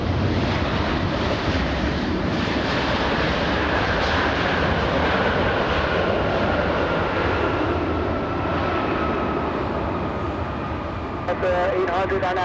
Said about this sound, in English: We have a 787 Dreamliner.